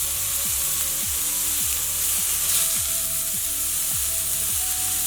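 Salmon with lemon frying in a pan, a steady loud sizzle with faint clinks and stirring, no one speaking.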